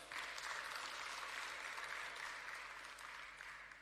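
An audience at a provincial climate change workshop gives a round of applause, a steady wash of clapping that sounds faint and distant for the whole stretch, with no talk over it.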